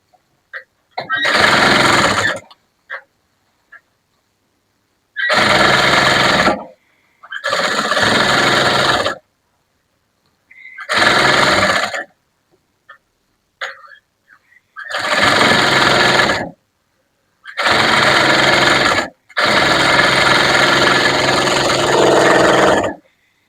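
A sewing machine stitches a blouse in repeated loud bursts of rapid mechanical whirring, each lasting one to four seconds and separated by silent pauses, close and dominant with no talking.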